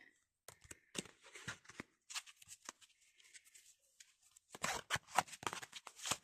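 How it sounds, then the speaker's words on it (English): Several quick bursts of riffling tarot cards, some brisk and bright, separated by short pauses, fairly close and moderately loud. "Let's just do a quick little shuffle and see how they handle"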